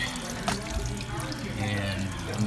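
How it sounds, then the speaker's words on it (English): Water pours and trickles out of the clogged ice bin drain of a commercial Coke machine as a constant, close watery rush that is partly masked by a low hum. "Take this off, you'll see the water will pour out."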